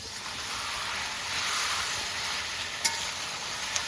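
Chicken legs fry in a pan with a dense, even sizzling hiss that holds steady throughout, broken once by a brief clink, close and without speech.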